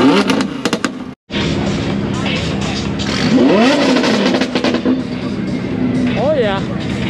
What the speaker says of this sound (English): Oh, I hear a Lambo.